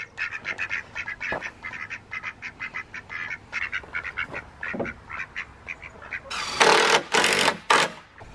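Hens cluck in a farmyard where goats are kept, giving a rapid run of short, rhythmic calls close by, then a few loud, rough bursts near the end.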